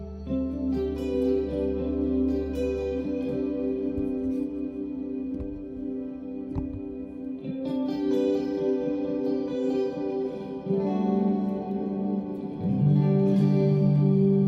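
Guitar played through an amp with chorus, reverb and delay effects, sustained shimmering chords and melody lines washing continuously with long echoing tails, loud and close, no talking.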